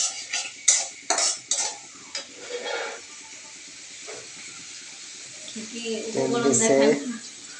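Spinach and shrimp curry with onion and oil being stirred in a pan, brisk clattering scrapes at first that fade to quieter stirring, with a voice talking toward the end.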